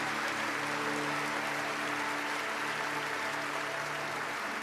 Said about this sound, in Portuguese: Aplauda o mais forte que você puder